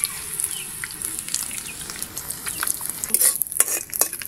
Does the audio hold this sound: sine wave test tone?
no